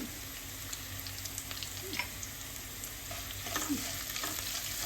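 Red chilies and turmeric fry in a pan for a big lemon pickle, making a steady, close hiss and sizzle broken by soft scraping stirs. No one speaks.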